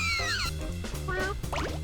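Cartoonish cat meows in the Katamari video game, a few quick pitch-sliding cries over bouncy game music, loud and close.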